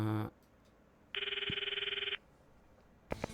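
A phone in the video game Steins;Gate rings once in a single electronic trilling burst of about a second, with brief short sounds before and after.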